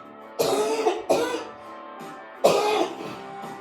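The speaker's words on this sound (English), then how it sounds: "My apologies for the coughing." Several harsh coughs and throat clears from a woman leading a low-impact spin class, three loud bursts spaced over a few seconds with a quiet pause between them and no talking.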